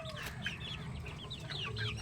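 A hen clucks nearby amid a flurry of chirpy chick peeps, steady and busy, with low background rumble.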